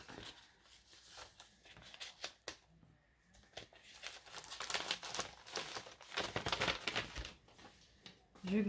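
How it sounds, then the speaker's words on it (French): A paper card slides back into a paper envelope with faint, close crinkling and rustling that swells toward the end, heard alone and quiet. "Donc je remets ta carte dans l'enveloppe."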